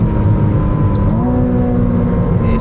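A McLaren Artura Spider's 3.0 L V6 hybrid engine revving: a loud, steady, close-up drone with rising harmonic tones as the revs climb, continuous and alone without speech.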